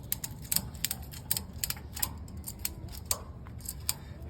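A scissor jack is cranked tight on a portable stage setup, producing a quick series of sharp metallic clicks and ticks at an irregular, ratchet-like pace over faint background noise.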